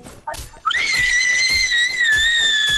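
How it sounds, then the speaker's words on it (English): A person screams upstairs in the Fortnite video game: one long, shrill, sustained cry that rises and then holds steady at a high pitch, loud and close. "Bro, I just heard someone scream upstairs."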